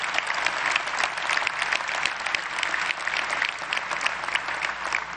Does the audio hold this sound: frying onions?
no